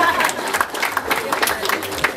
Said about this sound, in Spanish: El aplauso para la quinceañera amargada